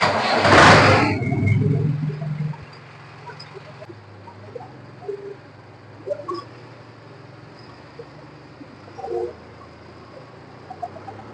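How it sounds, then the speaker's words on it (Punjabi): A tractor engine cranks and catches in a loud burst, then drops to a low, steady idling rumble while birds chirp faintly nearby. "ਚਲੋ ਟਰੈਕਟਰ ਕਰਦੇ ਆ ਸਟਾਰਟ ਹੁਣ"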